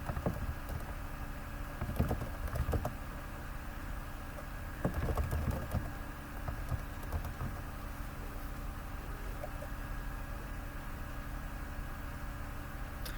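Keys clatter on a computer keyboard in quick uneven bursts over a constant background hiss, with a few heavier taps standing out.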